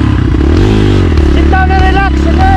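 Enduro motorcycle engine running on a trail, loud and steady with a continuous low drone and revs rising and falling, while people talk over it nearby.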